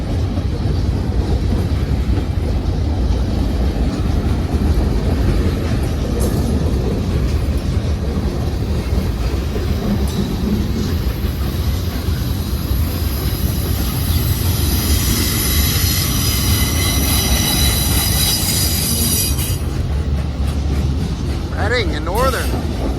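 Eastbound manifest freight led by an AC44C6M locomotive rolls past loud and close in a continuous rumble, with clattering cars and a rising wheel squeal toward the end, and voices talking over it.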